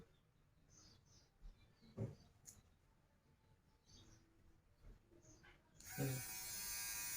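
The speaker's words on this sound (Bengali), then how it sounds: "ট্রিমার, চুল কাটার, এই যে চলতেছে, ও ট্রিমার চুল কাটার মেশিন" An electric hair trimmer from a budget mystery box buzzes close by, with faint clicks and handling before it, then a steady high whine for the last second or so.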